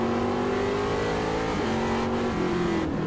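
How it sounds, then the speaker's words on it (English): Trans Am TA2 race car at Portland International Raceway, recorded on board: loud, close engine revving with audible downshifts into third as the pitch drops, then the engine climbs again. "Downshifting into third."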